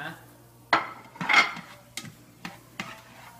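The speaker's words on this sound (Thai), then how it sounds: "นี่จะเป็นการ ผัดให้หอมให้เหลืองเห็นไหมคะ" Shallots and garlic stir-fried in a pan, with a spatula scraping and clinking against the metal in a few sharp strokes over a light sizzle, close by.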